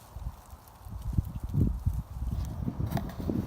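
Goats trickle back into a farm pen, their hooves clopping and shuffling on the ground in an uneven patter, close by and moderately loud with no talking.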